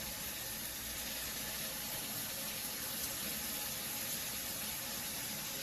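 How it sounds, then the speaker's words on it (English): A shower running, with a steady, dense hiss of spraying water that stays constant and fairly close throughout. "Uh-huh, it's a shower."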